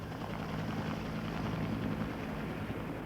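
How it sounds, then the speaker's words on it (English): Helicopters search the coast and sea for a missing nuclear bomb in a 1966 Cold War news report, giving a steady, droning rotor and engine roar that holds throughout without talk. "Helicopters and planes packed with radiation detection devices have been scouring the coast and sea for the missing"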